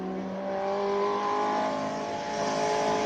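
A little front-wheel-drive Mark 1 VW Fox races at a Cape Town classic-car hill climb. Its engine drones steadily and harmonically, strong and fairly near, holding a sustained note with slight pitch shifts throughout.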